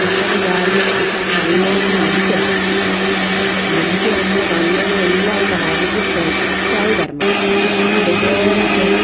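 A mixer grinder whirs loudly and steadily blending chilled milk for a Sharjah shake, with a brief cut near the end before the motor roars on again; a voice speaks faintly.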